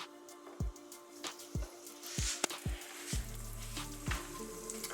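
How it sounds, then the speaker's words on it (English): Mozzarella sticks coated in Flamin' Hot Cheetos sizzle and crackle as they fry in hot grease, with close, steady bubbling and several sharp pops, and no talking. "we're gonna put this in the grease"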